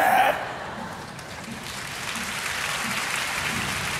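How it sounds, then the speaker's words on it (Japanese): Live audience applauding at a stage performance, a broad steady roar of clapping that follows a brief loud burst at the start and continues evenly at close range. "なんでここで拍手"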